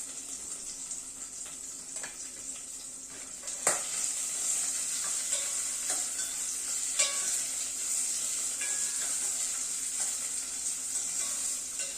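Carrots and beans fry in oil for a dhaba-style veg Kolhapuri, giving a soft, constant hiss with occasional light clinks and scrapes of stirring against the pan, fairly quiet and with no voices.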